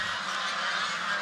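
Flock of geese honking on a farm at feeding time, being fattened on concentrated feed before sale, a dense continuous chorus of nasal calls close by with no talk.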